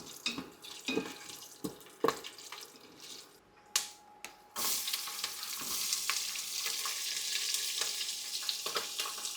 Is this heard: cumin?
yes